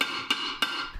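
Two sharp metallic hammer knocks, evenly spaced, drive a pinion into a 9-inch differential housing. The strikes are close and clear over a faint background hum.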